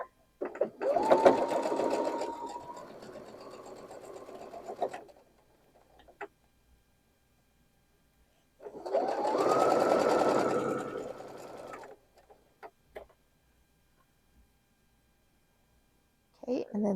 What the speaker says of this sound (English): let's sew that down